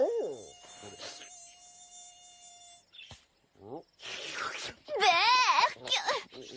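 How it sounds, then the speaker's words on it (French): A swarm of mosquitoes buzzes in whining, wavering drones that swell and fade between brief quiet gaps, in an animated cartoon setting with voices mixed in. "des milliers de moustiques qui vous dévorent à longueur de soirée"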